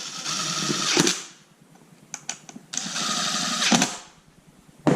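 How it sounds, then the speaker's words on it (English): A torque wrench works on bolts while a seat is mounted in a Polaris General UTV. Two long buzzing ratchet runs are separated by a few sharp, close clicks, with no voices. "That's my torque wrench, the click."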